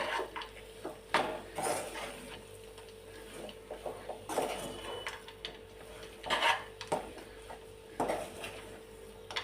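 Rava laddu mixture with coconut and roasted cashews and almonds being stirred in a pan, giving scattered scraping and clinking of spoon against metal in irregular bursts, moderately close and fairly quiet, with no talk.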